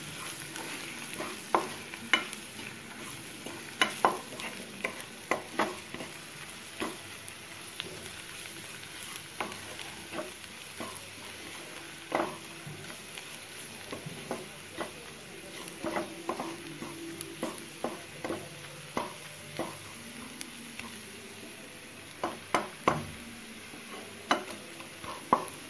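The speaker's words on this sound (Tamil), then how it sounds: "நல்லா அப்படி வதக்கி விடலாம்" Paneer masala spices sauté in a pan with a soft, continuous sizzle, while a spoon stirs and scrapes in irregular clicks and taps throughout, fairly quiet and with no voices.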